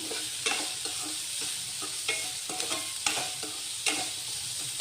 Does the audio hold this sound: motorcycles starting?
no